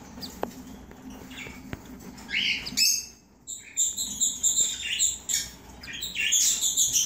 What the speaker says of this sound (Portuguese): E ela é uma arlequim cinza pérola. E esses são os filhotinhos.